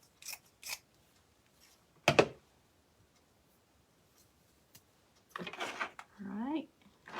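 Scissors cut material for a homemade Christmas present with lights, giving a few separate sharp snips and crisp rustles spaced out over quiet stretches, close to the mic and with no speech.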